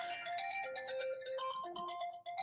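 A mobile phone ringtone goes off during a live football preview stream, playing a looping electronic melody of bright chiming notes, fairly quiet and continuous, with no talking over it.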